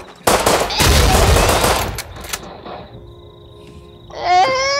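Gunfire in the video game Rust: a close, loud burst of rapid shots followed by a few scattered bangs, then tonal game sounds near the end, with no talk over it.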